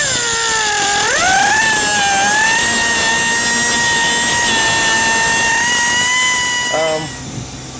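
Cutoff wheel grinding across an exhaust clamp on a Jeep Wrangler JK during a Pypes dual cat-back exhaust install, a loud continuous high whine that dips in pitch near the start, then holds steady before trailing off at the end.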